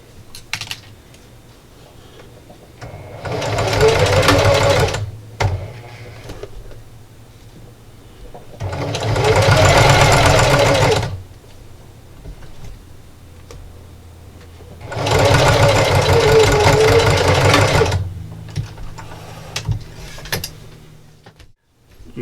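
A sewing machine stitching the closing seam of a St. Patrick's Day fabric treat bag, running in three loud bursts of several seconds each, separated by quieter pauses with faint handling noise and no talking.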